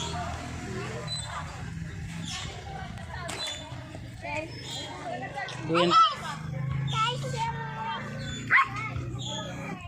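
A pet dog named Toro gives a few short yips and barks at home, close but not loud, under steady chatter from a woman and a small child.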